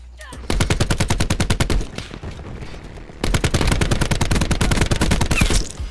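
Two long sustained bursts of rapid automatic gunfire in Call of Duty: Black Ops 4, loud and close, with a short pause between them.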